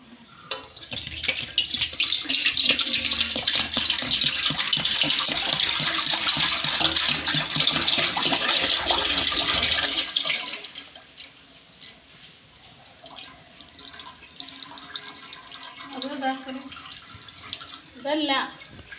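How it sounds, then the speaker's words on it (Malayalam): Homemade coconut oil pours in a thick, steady liquid stream for about ten seconds, then stops. Scattered drips, small clinks and voices follow. "ആദ്യം തന്നെ നമുക്ക് ഈ വെളിച്ചെണ്ണ ഒന്ന് ഒഴിച്ചു കൊടുക്കാം."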